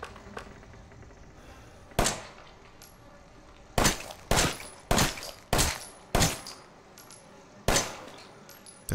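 Gunshots in Resident Evil 7, seven sharp, loud reports fired singly at irregular intervals over quiet ambient game sound, each with a short ringing tail.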